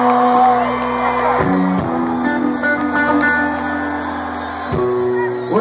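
Concert crowd in Atlanta screaming, whooping and cheering, loud and continuous with strong tonal music-like bands running through the roar.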